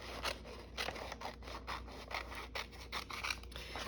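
Scissors cutting out a paper piece for a craft journal: a rapid series of close, crisp snipping and rasping strokes in a steady rhythm, quiet overall and without speech.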